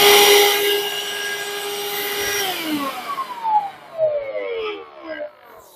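A Parkside 20V cordless vacuum cleaner whines loudly with a steady high motor tone, then spins down, the pitch sliding lower as it fades into quieter rattling and brief bumps.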